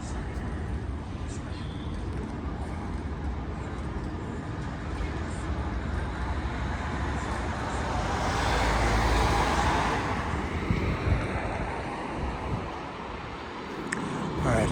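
A Sydney city bus pulls in at the Bankstown stop, its engine swelling louder and closer over a steady wash of road and traffic noise, then easing off as it settles at the stop.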